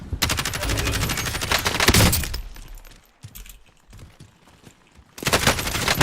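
Kilo-141 assault rifle fire in Call of Duty Warzone rattles out in loud, rapid automatic bursts, a long stream, a quieter lull with scattered distant shots, then another sharp close burst.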